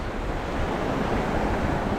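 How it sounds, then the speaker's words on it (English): Ocean waves wash steadily onto Fort De Soto beach at sunset, a continuous broadband surf roar with light wind, close and even, no voices. "Just hearing the waves, and you see the seagulls flying"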